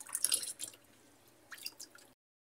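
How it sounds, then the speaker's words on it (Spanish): Diluted fabric softener poured into the water already filling a Whirlpool semi-automatic washing machine, heard as close dripping and splashing liquid that comes in two short bursts with a quiet gap between them. "Agregamos el suavizante diluido en agua para que no se haga bola cuando se vierta."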